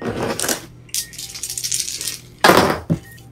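Dice rolled during a tabletop role-playing one-shot game, Lasers & Feelings: hard clattering bursts tumble and settle in several quick rattling runs, close and fairly loud, with no talking.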